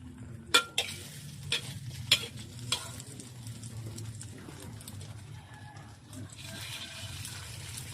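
Eggs fry in a pan with a steady low sizzle, broken early on by a few sharp clatters of a utensil against the pan, then settling into a continuous crackle.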